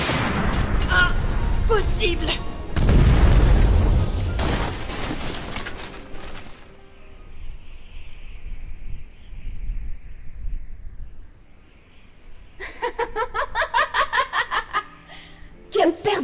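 An explosive burst of chaotic, crackling attack effects erupts in a fan-made Undertale film, loud and dense for several seconds before fading into a low rumble, followed by a rapid rattling burst; a voice speaks amid the effects.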